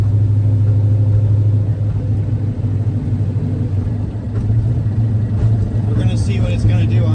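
A turbocharged Ford Foxbody Mustang pulling hard on a dyno, its engine a loud, steady low rumble that swells and roars throughout.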